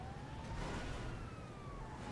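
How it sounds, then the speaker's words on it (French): An ambulance siren in a mega ramp flipper video game wails with a slowly sweeping tone over steady engine-like game noise, continuous and moderately loud throughout. "C'est l'ambulance qui fait ce bruit-là?"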